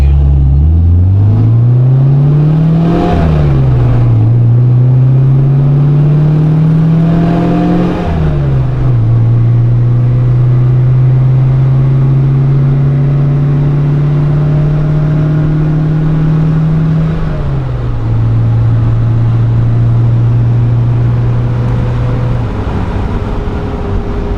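A 1973 MGB Roadster's engine pulls hard on a highway, loud and close, climbing through the gears with clear rev rises, brief drops at each shift, then settling into a steady high cruise drone.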